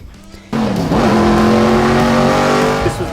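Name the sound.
Dale Earnhardt's NASCAR race car driving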